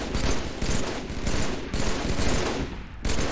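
Rapid automatic gunfire from the video game Halo 3 rattles in dense, continuous bursts with brief gaps between them, loud and close, with no speech.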